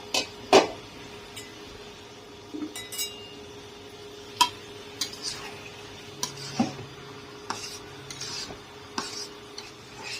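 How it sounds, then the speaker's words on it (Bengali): Khichuri being stirred in a cooking pot, with scattered scraping and light clinks of a spoon against the pot at an uneven rhythm, close and fairly faint. "ওটা কিছুটা লাড়া দিয়ে দিতে হবে"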